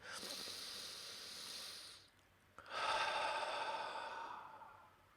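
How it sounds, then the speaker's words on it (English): One long, airy deep breath during an emotional-freedom tapping session: a hissing inhale of about two seconds, a short pause, then a fuller, louder exhale that trails off, close and alone. "Nice big deep breath."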